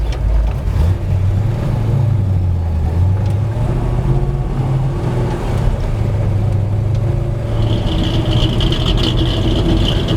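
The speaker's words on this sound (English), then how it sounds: "So we're starting our test drive here at Evergreen Speedway." A 1964 Ford Fairlane engine runs steadily at Evergreen Speedway, a loud, continuous low rumble with shifting tone as it pulls, and a higher whine rising late in the take.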